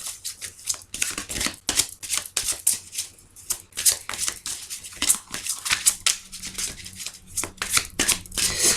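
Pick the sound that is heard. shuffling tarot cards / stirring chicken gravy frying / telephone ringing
shuffling tarot cards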